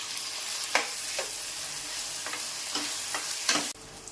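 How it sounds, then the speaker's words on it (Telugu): Onions and chopped tomato frying in a pan, an even close sizzle broken by several short scraping stirs of a spatula, then a sudden drop in level at the end. "ఉల్లిపాయలు వేగాక ఇప్పుడు ఒక పెద్ద సైజు టమాటా కట్ చేసి వేసుకోవాలి"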